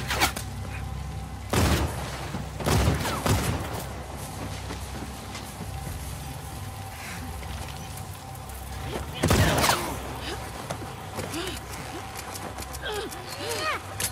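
Bursts of enemy gunfire ring out in The Last of Us Part II, sharp loud cracks around two, three and nine seconds, set among game ambience and clattering movement, with voices talking in between.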